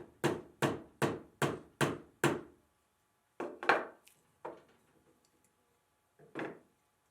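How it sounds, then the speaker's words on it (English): Six sharp, evenly spaced hammer taps driving a small nail through a belt, then a few irregular, softer knocks with pauses between, close and clear in a quiet room. "gently hammer the nail through the belt"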